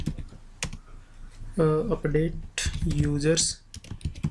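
Rapid clicking keystrokes on a computer keyboard in bursts, close and crisp, alternating with someone speaking briefly.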